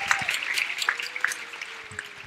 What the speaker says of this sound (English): Let's give it a big round of applause, yeah?